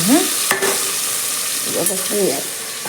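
Tomatoes frying in a pan for a village-style meal, with a steady sizzle under a few stirring scrapes and a brief sharp clink; a voice-like tonal sound rises at the start and near the end.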